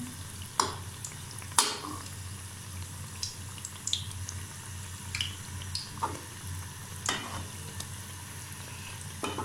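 Potato tikkis fry gently in oil over a low flame, a soft continuous sizzle with a few sharper pops and clicks of utensils, quiet and close.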